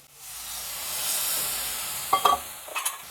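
Water goes into a hot pan of frying taro and prawns with spices, causing a swelling hiss of steam that fades, followed by a few close scraping stirs.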